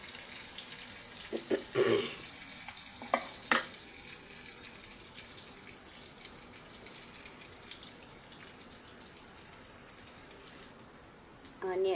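Ginger sizzles steadily in a hot pan for ragi idli, a soft continuous hiss with a few sharp clicks and taps of utensils near the start and end.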